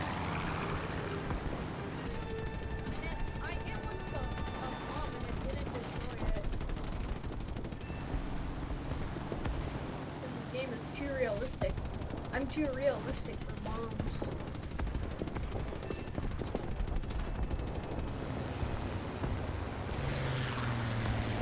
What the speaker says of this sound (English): I was shooting a ship.